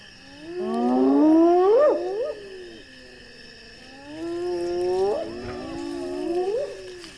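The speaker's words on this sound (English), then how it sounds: "Hyenas, the lion's eternal rivals, are quickly on the scene." Hyenas calling at a lion kill on the Zambezi floodplain: two long, rising, whooping cries a few seconds apart, fairly loud and close, over a quiet background.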